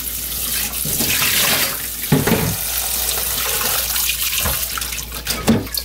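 Shepherd's purse greens are washed by hand under a running kitchen tap, with loud, close water splashing and gurgling into the sink and occasional sloshing bursts, and no voices.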